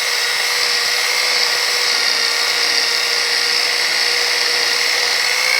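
A power polisher buffing the bed of a 1950 Chevy truck, a loud steady high-pitched whine held evenly and close throughout, with no voices.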